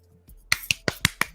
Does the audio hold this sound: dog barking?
no